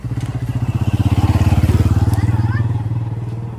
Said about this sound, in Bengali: এক সেকেন্ড, বাইক আছে।